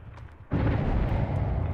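A sudden loud explosion bursts in the Dead by Daylight video game after a quiet start, then a sustained rumbling roar holds steady to the end, with no speech.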